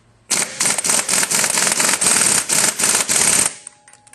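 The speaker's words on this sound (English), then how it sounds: "Got our impact wrench here with our 17mm socket. And let's go ahead and snug the clutch up." An impact wrench with a 17mm socket tightens a scooter clutch in a rapid series of about a dozen loud, close hammering bursts, then stops and leaves a faint tail.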